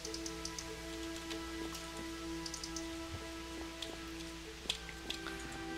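Rain falls outside in a video game set in a library, a soft, even patter with scattered light ticks and drips, faint and steady with no voices.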